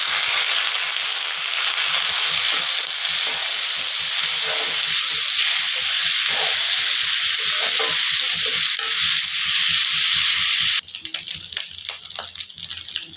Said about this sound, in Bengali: এখন এই চাল আর ডাল ধোয়া এটা ঢেলে দিলাম